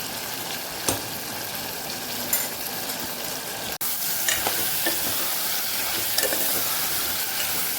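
Ginger sautéing in a pan for a Kathiyawadi potato curry: a steady, close sizzle and frying hiss with occasional stirring scrapes and clinks, no voices.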